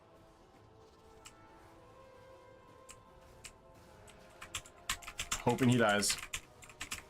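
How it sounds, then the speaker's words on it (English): Computer keyboard keys clack in scattered taps during an online game raid, picking up into a quicker, louder burst near the end as someone speaks over it. "Little ASMR key clacking though"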